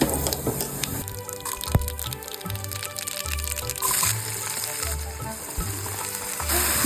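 Spices hit hot oil for a Telugu talimpu tempering, a close, continuous sizzle and crackle with occasional sharp clicks and spattering pops.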